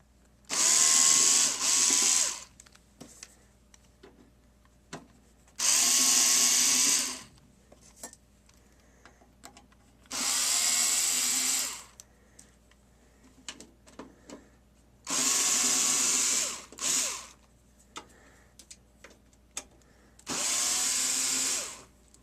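A power screwdriver whirs in five separate bursts of about two seconds each, backing torx screws out of the rear panel of a Philips HDRW720/17 DVD recorder, with small clicks and handling noise between runs.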